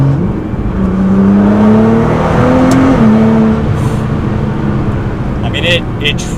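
A tuned Nissan GT-R in race mode on high boost accelerates hard on a backcountry road, engine note climbing in pitch from inside the car, steady and loud, with talking over it.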